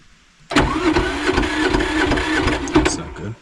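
An old generator engine cranks over after a brief quiet start, its starter turning with a slow, labored, rhythmic churn that stays loud and close for about three seconds.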